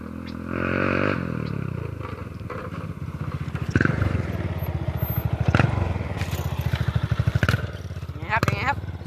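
A motorcycle fitted with a steel pipe exhaust revs loudly up close, a rough, rapid pulsing blat that rises and falls in bursts with a rattly edge; a voice is heard over it.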